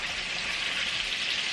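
Fish frying in hot grease in a frying pan, with a dense, steady sizzle and crackle that runs unbroken at close range, with no talking.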